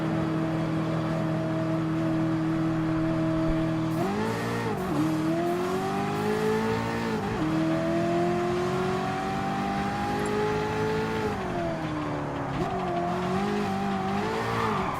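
Dragster engine in a Gran Turismo Sport drag race at Blue Moon Bay, holding a loud steady drone before climbing through several rising gear pulls with brief dips at each shift.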